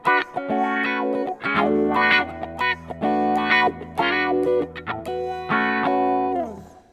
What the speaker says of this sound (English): Nice little wah-wah sound I've dialed in to kind of sound a little bit like a crybaby.